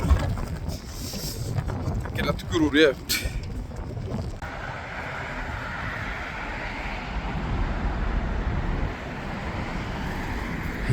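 Wind roars steadily across the microphone outdoors amid snow in Lithuania, with a brief voice and some clatter near the start before the gusting continues alone.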